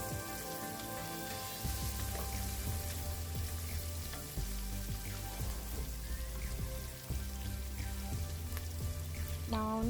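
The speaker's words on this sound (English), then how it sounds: "I'm just going to cook this as the onions continue to caramelize" Onions, green peppers and green chilies fry in a pan for beef matoke, giving a steady close crackling sizzle like light rain throughout, with a low background hum and occasional soft stirring.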